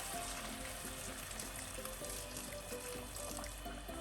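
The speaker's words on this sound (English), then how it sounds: "we are going to add in boiling hot water" Boiling hot water pours steadily into a pot of pork ribs cooking in sweet and sour sauce, a continuous close splashing and sizzling wash with no pauses.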